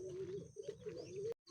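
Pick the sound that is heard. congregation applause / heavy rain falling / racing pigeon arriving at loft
racing pigeon arriving at loft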